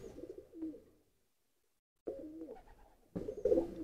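Racing pigeons at a Bangladeshi pigeon tournament give soft, close cooing in two or three bursts, separated by a second of silence.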